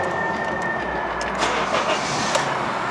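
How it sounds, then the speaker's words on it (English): A 2010 Honda CR-V engine cranks and catches, a brief starter whir followed by the motor settling into a steady running rumble close by. "So let's start the engine."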